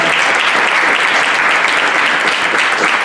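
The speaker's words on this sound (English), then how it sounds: "Please give a big round of applause" Audience applause at the close of a Vaishnava Sadachar class: a dense, steady wash of many hands clapping together, sustained and even at full level throughout with no pauses.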